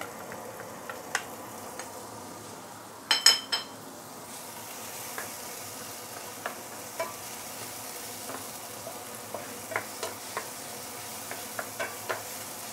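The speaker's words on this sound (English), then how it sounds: "when you saute any fermented beans, then this process will actually remove some of the earthiness inside the fermented black bean" Fermented salted black beans and taoju sizzle softly while being sauteed in a pan, with light spoon taps and scrapes against the pan throughout and a brief clatter near the start.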